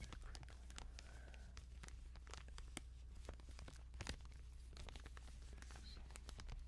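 Crinkling and tearing of material for ASMR, a close run of sharp crisp crackles and rustles in irregular bursts over low background hum, with no talk.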